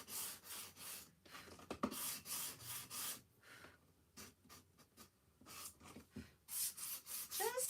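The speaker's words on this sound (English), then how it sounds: "see how I just sanded it a tiny bit and just distressed it" Light, irregular strokes of sandpaper rub across a wooden frame to distress it, producing soft, close, scratchy bursts separated by short pauses, fairly quiet with no talking.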